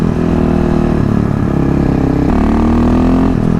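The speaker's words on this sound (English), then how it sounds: "Obviously I'm riding a KTM" A KTM 625 SMC supermoto's single-cylinder engine runs steadily while riding, a loud, continuous close-up drone with shifting pitch as the throttle changes and no talking over it.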